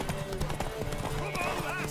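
Horse hooves clatter in a quick galloping rhythm during a race in The Witcher 3, set under a steady bed of game music and ambience for a brief moment.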